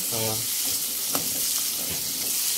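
Onions and garlic sautéing in oil for a Dharmapuri-style fish curry, a steady close hiss and crackle with occasional stirring scrapes and brief background voices.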